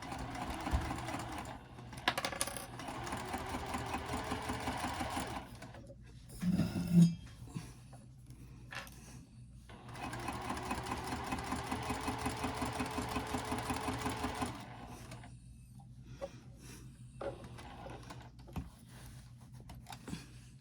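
A sewing machine stitches the lining of a wristlet clutch and back stitches, two long steady whirring runs with a short burst in between, close up and free of talk.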